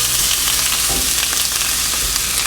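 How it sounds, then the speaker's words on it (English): Peppers sautéing in a hot pan, a loud, dense, continuous sizzle with faint stirring underneath, heard close up and alone. "Then we're just going to saute, let them get soft."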